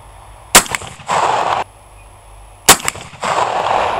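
A 12 gauge shotgun fires two loud, sharp blasts about two seconds apart at targets outdoors, and each blast is followed by a brief echo and a stretch of hissy rumble.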